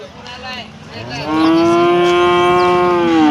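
A cow gives one long, loud, sustained moo, preceded by faint calls and the general background noise of the busy weekly cow market at Loni, India.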